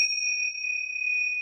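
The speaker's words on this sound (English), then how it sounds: "I'm going to give him a quick cleansing with vibration using the tingsha bells" Tingsha bells struck together give a bright, sustained two-tone ring that hangs evenly in a quiet room and slowly decays, clear and close with nothing else audible.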